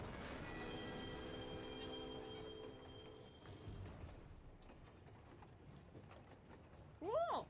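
A train rumbles and squeals during a fight in the video game Final Fantasy XIV Stormblood, with a sustained metallic whine and clatter that fades into mechanical noise, then a short rising squeal at the end.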